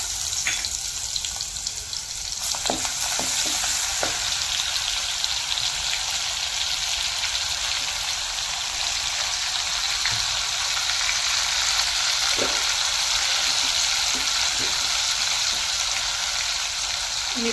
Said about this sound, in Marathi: आपण आता तेलामध्ये तेल गरम करून घेऊ आणि त्याच्यामध्ये अद्रक लसूणची पेस्ट टाकूया